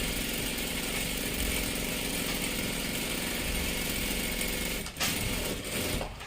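A sewing machine runs steadily, stitching close along the edge of a salwar top, its continuous motor whir holding throughout with a brief pause near the end before resuming.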